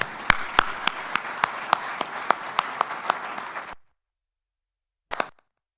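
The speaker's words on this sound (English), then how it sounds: "Please, a round of applause for CCE." An audience at a Nigerian petroleum commission's commercial bid conference gives a round of applause. Sharp, regular claps stand out from the crowd's clapping, which stops abruptly after nearly four seconds. A single short burst follows after the silence.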